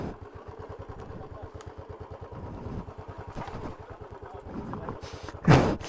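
A motorcycle engine chugs at low revs on a rough offroad trail, a close, steady rhythmic thumping with occasional throttle swells and a loud burst near the end, with brief voices in between.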